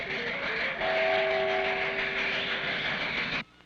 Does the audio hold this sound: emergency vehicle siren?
no